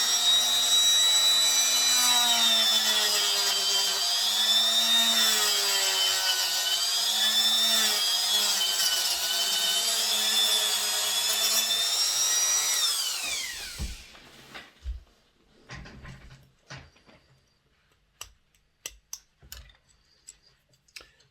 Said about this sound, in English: So use the rotary tool for that.